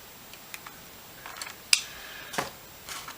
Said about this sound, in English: Where'd the snippers go? Here we go. So we're going to go ahead and cut this.